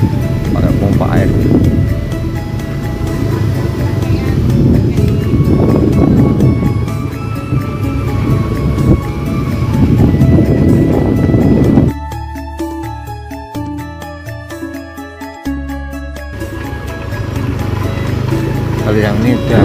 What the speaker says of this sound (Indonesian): masih mau diesel ya, pakai pompa air.